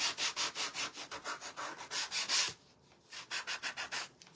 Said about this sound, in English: just go over it real light with some sandpaper